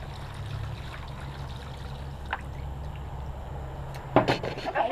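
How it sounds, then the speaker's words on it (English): Warm water pours in a soft continuous trickle into a tall glass, fairly quiet and near, ending with a few light clinks and taps. "I am going to be pouring 1 tall glass of warm water"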